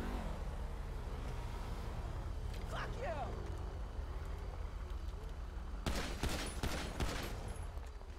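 Gunfire in the video game GTA V during a roleplay session, a burst of sharp shots near the end following quieter game ambience, with no speech.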